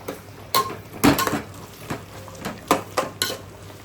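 Chili powder stirred in a cooking pan, a handful of sharp metallic scrapes and clinks at an irregular rhythm, close and fairly quiet over a low room hum.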